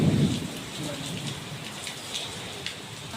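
Steady heavy rain on a residential rooftop and yard, a dense continuous hiss with a rumble of thunder in the opening moment, heard alone without talk.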